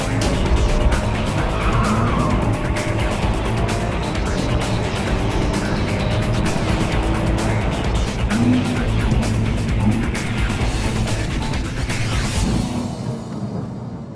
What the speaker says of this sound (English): I'm going to start to increase the pace a little bit to make sure that the system works as I want it to